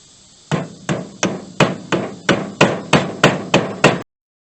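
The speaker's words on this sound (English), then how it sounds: "and hammer it a little." Eleven sharp, evenly spaced hammer blows on a hub cap being seated onto the wheel hub of a 1966 Ford Mustang, loud and close with no talking, ending abruptly.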